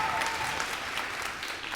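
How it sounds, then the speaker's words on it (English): An audience at an elementary school DARE graduation gives a steady, moderately loud round of applause that lasts throughout. "I knew they'd want to give him a round of applause."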